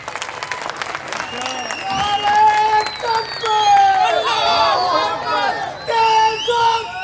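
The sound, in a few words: audience applause and clapping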